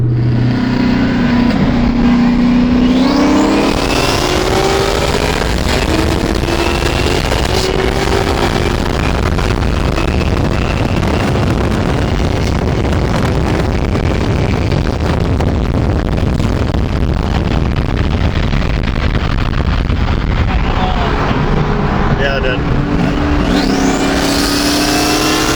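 Street drag racing with several cars, including one with a rear-mounted turbo LS V8, loud engines revving hard and accelerating, with rising gear pulls near the start and end over steady roaring engine and road noise.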